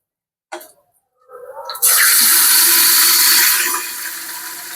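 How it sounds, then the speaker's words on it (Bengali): Hot oil poured into a handi of mutton mince sizzles and spatters: a loud, steady hiss bursts in after a couple of faint clinks, holding strong before easing slightly toward the end. "গরম তেলটা কিন্তু হাড়ির মধ্যে দেওয়া হচ্ছে দেখতেই পাচ্ছ একদম ছিটে ছিটে আসছে"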